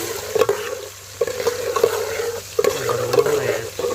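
Onions frying in a pan for chana daal, a steady close sizzle broken by repeated scraping strokes of a spoon stirring them, with no talking.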